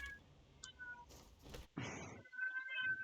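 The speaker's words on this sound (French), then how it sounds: "Oh putain le chat." A cat meows faintly in a quiet room, a drawn-out cry rising over soft background clicks and a couple of thin electronic tones.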